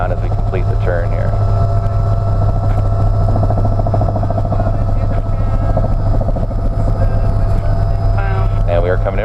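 A tour helicopter over Royal Gorge in Colorado slows in a left-hand pattern before landing, its rotor and turbine droning loud and steady from inside the cabin, with voices heard over it.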